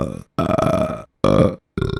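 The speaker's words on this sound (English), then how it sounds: "now I have a nice selection of burps" Four loud, close burps in quick succession, each a rough, drawn-out belch separated by short silences, with no talking.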